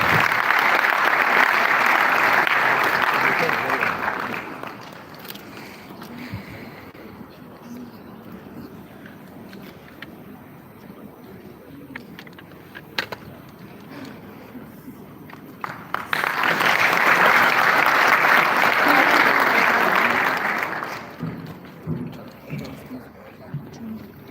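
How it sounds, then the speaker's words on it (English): Audience applause at a political event in Ghana, with a loud burst of clapping that fades out, a quieter stretch of murmur and stray noises, then a second strong round of clapping. "Please, a round of applause for Dr. Zaneto."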